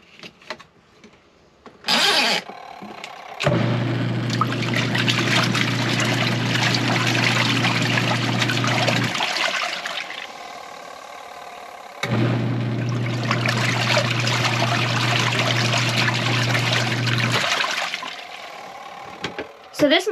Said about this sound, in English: So this model of washer actually seems to have more spin power behind it than our previous one